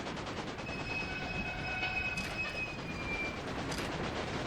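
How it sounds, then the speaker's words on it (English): A train in the railway game Railway Empire pulls away with a rumbling rolling noise and faint thin wheel squeals drawn out over it, steady and close, with no talk. "Come on, train, get out of there."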